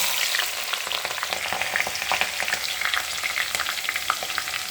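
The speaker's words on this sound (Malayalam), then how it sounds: "ഇതിലേക്ക് ഇനി നമുക്ക് ആദ്യമായിട്ട് ഇഞ്ചിയും പച്ചമുളകും വെളുത്തുള്ളിയും കൂടെ ഇടിച്ച് വെച്ചത് ഇട്ട് കൊടുക്കാം" Crushed ginger, green chili and garlic frying in oil for a crab curry: a steady, close sizzle with crackles and stirring scrapes throughout, and no voices.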